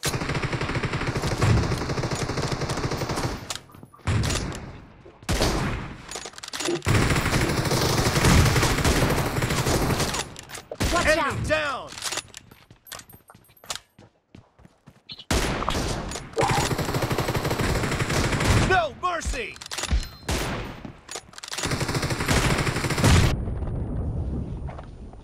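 Rapid bursts of automatic gunfire from a PUBG Mobile match crackle loudly in long sustained volleys, separated by brief quiet gaps and scattered single shots.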